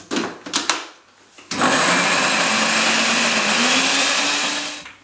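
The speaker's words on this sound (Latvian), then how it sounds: "Un atkal nedaudz visus samaisam." A few knocks, then a blender whirs steadily for several seconds, mixing a chocolate cherry protein batter with baking powder, loud and close with no talking.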